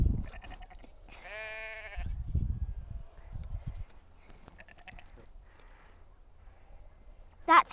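Sheep and lambs bleat in a Shetland field, one loud wavering bleat near the start followed by fainter calls and shuffling, with a person speaking briefly nearby.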